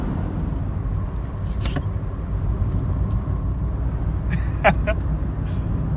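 A 1980s Vauxhall Astra GTE Mk1 car driving, a steady engine and road rumble from inside the car with brief squeaks, while people talk throughout.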